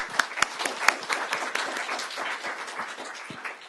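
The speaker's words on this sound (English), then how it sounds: "so round of applause" Applause from a smaller audience after a panel discussion on energy security, with distinct individual claps at the start merging into moderate clapping that gradually thins out.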